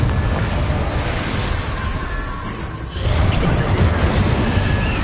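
A Confringo blasting spell goes off in Hogwarts Legacy, with a broad explosive roar that dips briefly, then surges back in a loud second burst.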